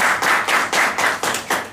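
Audience applause at an art exhibition opening at a cultural centre in Jędrzejów, heard as a short run of close, sharp, rhythmic claps, about seven even bursts.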